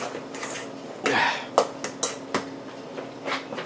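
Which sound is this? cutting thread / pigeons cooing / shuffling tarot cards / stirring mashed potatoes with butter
stirring mashed potatoes with butter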